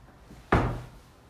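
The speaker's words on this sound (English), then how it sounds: "Your back door." The back door of a triple-wide mobile home swings shut with a single solid thump and a short, dull resonance, close by and alone.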